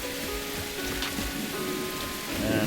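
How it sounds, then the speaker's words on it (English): Heavy rain pouring down in Enshrouded, a steady wash of drops drumming on surfaces without a break, with faint tonal game music underneath and no talk. "it's currently pouring down with rain"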